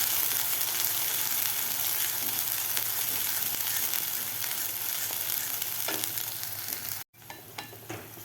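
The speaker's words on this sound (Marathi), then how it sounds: "आता हे वाटण आपल्याला 2 ते 3 मिनिट व्यवस्थित परतून घ्यायचं आहे." A ground spice paste sautéing in oil for a drumstick and potato curry, a dense steady sizzle with stirring, then a brief cut and a few scraping clatters near the end.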